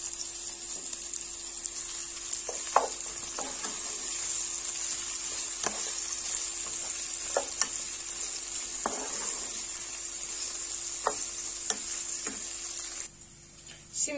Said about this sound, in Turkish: Şimdi de soğanla sarımsağımı soteliyorum.